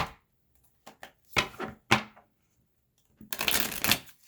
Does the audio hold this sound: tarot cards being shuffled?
yes